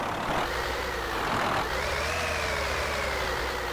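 A Kenworth T-660 truck engine in Euro Truck Simulator 2 runs in a steady, close rumble, with rising and falling tones as it revs and idles and a hiss like air brakes, no talk over it.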